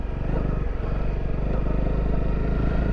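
A Honda CRF250L trail motorcycle engine runs steadily and loudly up close, its revs holding at a continuous rumbling drone throughout.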